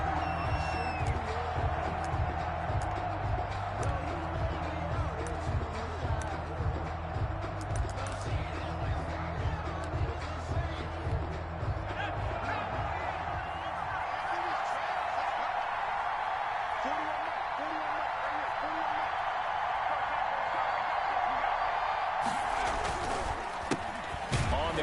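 NFL stadium crowd before a Bengals vs Browns game: a broad, steady roar of cheering fans under a commentator's voice, with rhythmic thumping early on and swelling noise toward the end.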